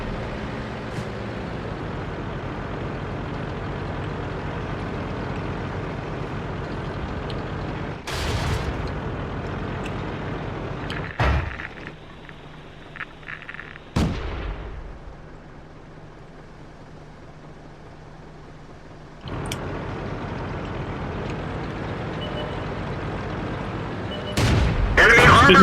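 Artillery shells and gunfire from the World of Tanks video game, heard as a few sharp booms over a steady engine rumble, one with a louder crack near the end.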